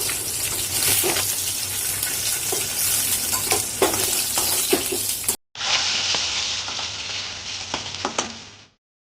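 Rohu fish pieces frying in hot oil in a pan for an Odia fish curry, a continuous loud sizzle with occasional sharper pops and crackles, a short break, then more sizzling before it stops.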